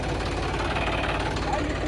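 A tractor engine runs steadily nearby, a loud, low, rumbling drone with a constant knocking throb and no pauses.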